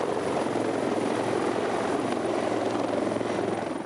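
A helicopter on the road at the scene of a car crash beats out a loud, steady rotor drone that continues without a break, with no speech.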